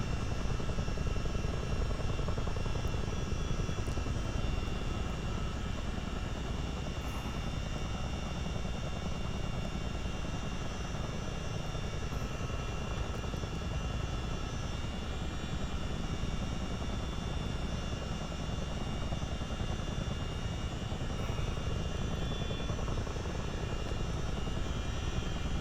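A Miltech CH-47 Chinook helicopter flies the Mach Loop, its rotor and engine roar holding steady and loud throughout with a broad, continuous rumble and no voices.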